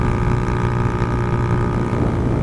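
A motorcycle engine and exhaust drone steadily while riding, a thick continuous rumble mixed with wind and road noise and no break in the sound.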